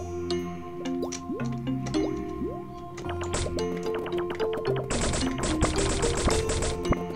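Liquid bubbling and plopping in the Wuppo video game, a run of popping drips and bubbly squelches over a steady game music bed, growing busier and denser toward the end.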